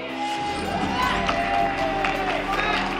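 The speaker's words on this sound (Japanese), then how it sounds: "大きな拍手をお願いします。" Audience applause and cheering at a Japanese host club group's annual awards ceremony as a top-ranked store is announced, a dense burst of clapping over background music with voices in the mix.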